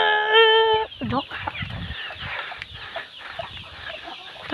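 A chicken clucks and squawks up close, with a loud crowing-like call at the start followed by busy, scattered clucking.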